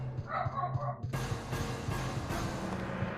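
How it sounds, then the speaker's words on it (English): A dog named Magni barks in a home, a few sharp close woofs over faint background music with a voice briefly heard. "I gotta bark."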